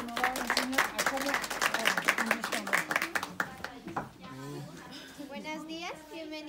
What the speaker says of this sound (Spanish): regalemos un fuerte voto de aplauso para Chasco